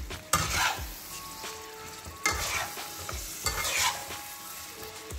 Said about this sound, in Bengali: এবার এটাকেও 2 থেকে 3 মিনিট হাই ফ্লেমে ভালোভাবে কিন্তু আমি কষিয়ে নেব।